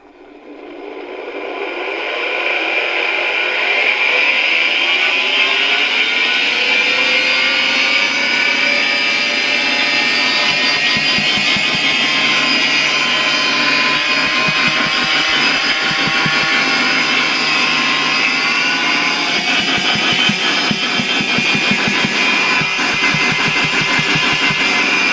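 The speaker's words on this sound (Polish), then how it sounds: "Całkiem fajnie ten odkurzaczek działa, no jest już dosyć głośny" A 1955 Vorwerk Kobold model 111 vacuum cleaner motor spins up from silence and settles into a loud, steady whine and roar that runs on continuously, close by.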